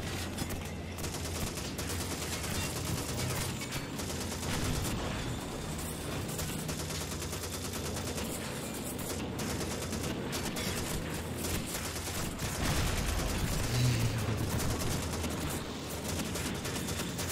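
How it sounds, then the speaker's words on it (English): A tank's machine gun fires in Call of Duty 2, with sustained rattling bursts of automatic gunfire and battle noise running throughout, dense and close with no speech. "Machine gun will automatically fire troops on anything."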